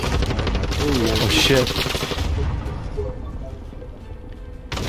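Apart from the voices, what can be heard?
gunfire from an enemy player in a video game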